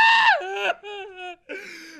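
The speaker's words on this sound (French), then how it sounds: "Sa diatribe de 8 minutes était davantage une collection de cris et de pleurs" A Japanese politician screams and sobs at a press conference, a loud, strained wail falling into choked, broken cries with short gaps between outbursts.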